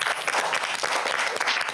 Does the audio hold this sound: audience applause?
yes